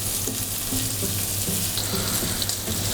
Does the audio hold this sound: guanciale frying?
yes